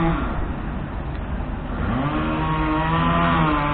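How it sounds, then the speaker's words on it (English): Chainsaws cutting up a fallen tree after heavy storm winds and rain whine steadily, rising in pitch as one revs up partway through, loud and continuous. "Sorry about the noise, all the chainsaws."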